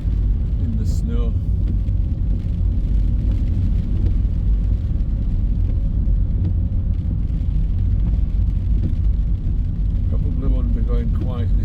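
A car driving slowly along a snowy, icy road during Storm Bert on a morning commute into Leeds, giving a steady, close low rumble of engine and road noise throughout, with a voice talking over it.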